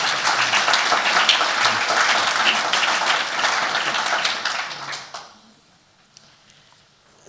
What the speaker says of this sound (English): So I think that deserves a clap as well.